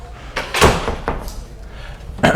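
A classroom door is pulled open and then shut with a couple of dull thuds and a solid bang, close by, amid faint room noise.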